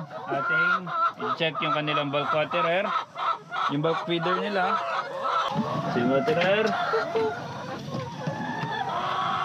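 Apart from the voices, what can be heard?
layer hens clucking on a farm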